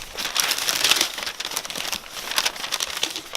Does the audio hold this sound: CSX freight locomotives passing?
no